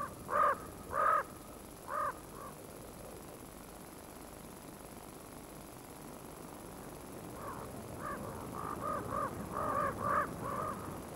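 Several crows caw in a wintry Yellowstone park setting in Wyoming, with two loud bursts of calls at the start, then a quieter stretch, then a denser run of caws toward the end over a low rumble.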